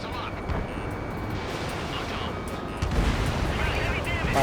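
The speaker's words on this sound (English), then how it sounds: "Launching missile." Missile launch in Ace Combat 7 during a fleet strike: a continuous roaring, rumbling rush that swells louder partway through, with dense combat noise and no clear speech.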